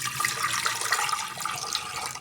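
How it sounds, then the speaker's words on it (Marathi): Water poured into a hot pressure cooker, about half a glass, makes a steady, close rushing splash that continues without a break through the short stretch. "आता ह्याच्यामध्ये आपल्याला पाणी ॲड करायचं आहे."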